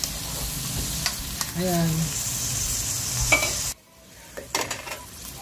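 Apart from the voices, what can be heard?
stirring sautéed patola (sponge gourd) in a pan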